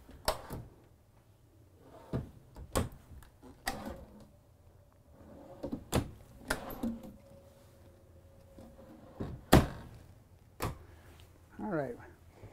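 Drawers in the camper of a Ford F-350 slide open and shut several times, each producing a sharp knock or clack, scattered over quiet room tone with faint movement and a short burst of talk at the end.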